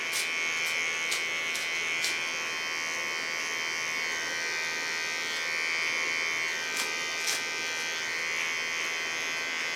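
An electric hair clipper buzzes steadily and close while trimming hair at the neckline during a haircut, a continuous motor whine with a few brief clicks.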